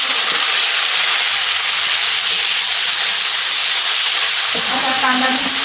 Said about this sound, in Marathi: त्याच्यामध्ये 1 चमचा जिरे घालून घ्यायचे आणि बारीक चिरलेला कांदा घालून घ्यायचा आहे